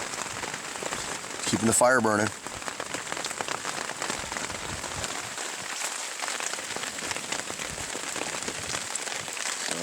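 Steady rain patters on a camp shelter beside a lake in the Canadian backcountry during a canoe trip, a dense continuous hiss close by, with someone briefly speaking over it and a short clatter near the start.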